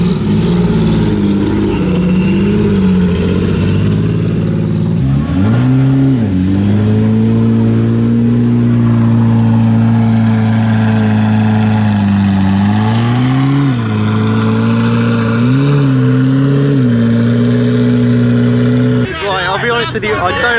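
A Koenigsegg Jesko at Salon Privé London 2024 drones loudly and steadily at a low engine pitch, rising in several revs and briefly dropping off, then ending in crackling pops as it spits flames, with crowd noise around.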